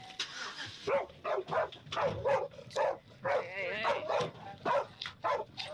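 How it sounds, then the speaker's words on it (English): A dog barking repeatedly at a roadside police stop, regular sharp barks mixed in with overlapping talk from people nearby. "Does the dog know? Is that why it's barking?"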